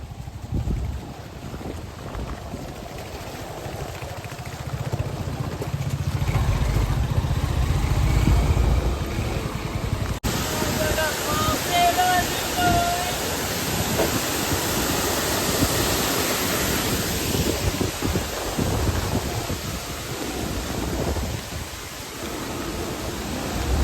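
A steady, loud waterfall rush at Amboli forms a constant broadband roar, mixed with wind noise on the microphone and no clear voices.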